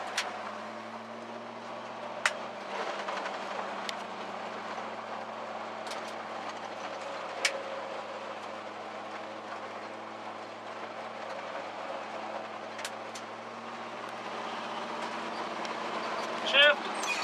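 Steady low engine drone and road rumble from a 1966 Chevrolet C10 pickup truck on the move, heard from inside the cab, with a few faint clicks and knocks over the continuous hum.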